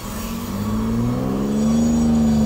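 A manual car engine hums and gradually rises in pitch and loudness as the clutch is held at half engagement, a low rumbling rev building steadily over a couple of seconds.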